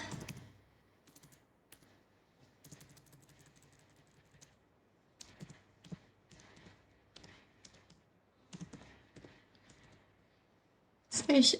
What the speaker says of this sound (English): go to command prompt and then we type IP config /all